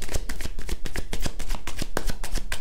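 Rapid riffling and slapping of tarot cards being shuffled by hand, a dense run of quick crisp flicks, close and fairly loud with no talk.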